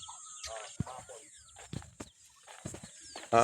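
Chickens and chicks on a farm with Rhode Island hens, close clucks and peeping calls in scattered bursts, ending with a loud squawk.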